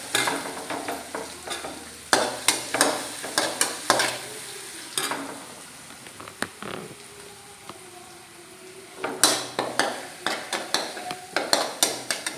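Crushed ginger and garlic frying in hot oil for Kerala-style pork pepper roast, with a steady sizzle and repeated sharp scrapes and taps of a spoon stirring in the pan, close and fairly loud.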